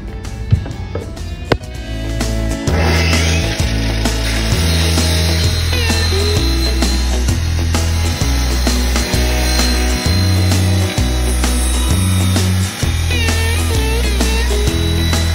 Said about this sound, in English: Guess we need a bigger bandsaw.